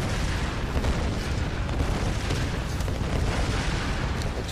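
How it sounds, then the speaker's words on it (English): A dense, continuous barrage of explosions and booms from the video game Tomb Raider fills the space, loud and rumbling with no pauses, like heavy game combat effects. "Explosions, I don't know where they're from,"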